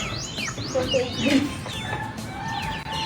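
Rhode Island Red chickens clucking at close range on a free-range farm, a run of rising and falling clucks and squawks one after another, with faint voices in the background.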